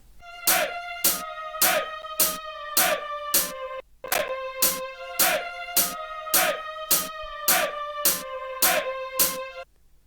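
A looped deep house sample pulses at a steady tempo, bright repeated violin stabs over a sustained tone with crisp hi-hat ticks, a chant, and a brief break partway.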